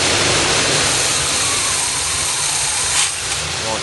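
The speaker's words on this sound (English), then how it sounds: "Sounds like it's running on all 8." A 1978 G-Body's 403 V8, still cold and not yet warmed up, runs with a loud, steady, rough roar close by, with no talk over it.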